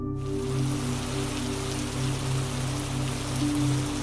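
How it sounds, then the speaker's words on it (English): Steady rain falls evenly, a soft continuous patter with a low constant hum underneath and no voices. "And let the rain begin."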